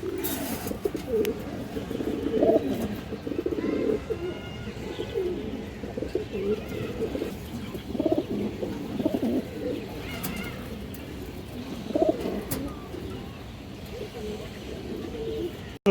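A pair of Gorra pigeons coo softly and repeatedly at close range amid steady background noise and some speech, the low calls recurring irregularly throughout.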